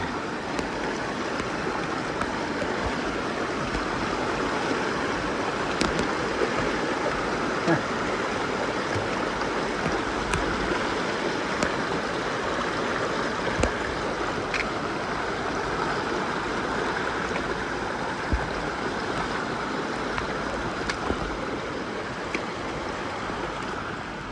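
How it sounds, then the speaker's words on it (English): A flowing mountain creek rushes steadily at a crossing with no bridge, a constant close water wash with occasional small splashes and faint sounds of someone wading barefoot. "All right, yet another water crossing with no bridge."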